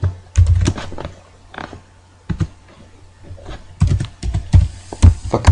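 Keystrokes on a computer keyboard while C++ code is entered in Dev C++, arriving in uneven bursts of close, crisp clicks with short pauses between, no voice.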